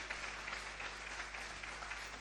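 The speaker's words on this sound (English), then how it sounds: "A round of applause, ladies and gentlemen" At the African Diaspora Summit 2025 launch in Ghana, an audience claps steadily, a dense, even patter of many hands heard at moderate distance, soft and continuous with no talking.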